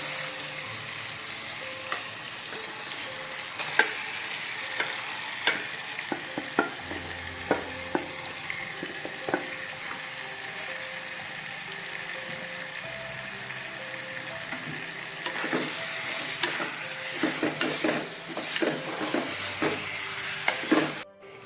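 Marinated chicken frying in masala in a pan, with a continuous sizzle and repeated spoon scrapes and clinks as it is stirred, growing busier and louder toward the end, close by.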